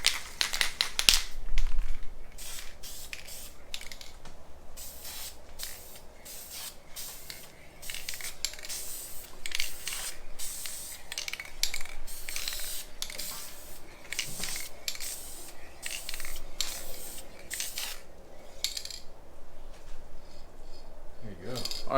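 Tint spray is applied in a second coat to Ford Maverick taillights. Repeated short hissing bursts from a spray can come close up, with light handling clatter between them and occasional speech.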